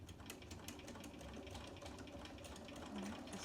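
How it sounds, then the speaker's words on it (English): A sewing machine stitching a scant quarter-inch seam on a quilt block, a fast steady needle rattle running throughout at a low, even level. "just sewing that scant 1/4 of an inch, keeping my edges lined up."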